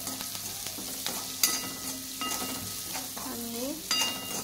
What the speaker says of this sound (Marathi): आता त्यामध्ये आपल्याला मिरची टाकून घ्यायची आहे आणि मिरची तेलात परतून घ्यायची।